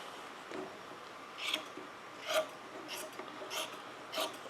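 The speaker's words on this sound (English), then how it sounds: "let's trim these edges." Fiberglass edges of an A-4 rudder layup being trimmed, with quiet rasping cuts repeating roughly every second over faint room noise, close and soft.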